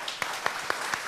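Audience applause at a charity fundraising event in a village association, a short burst of rhythmic clapping from a modest crowd.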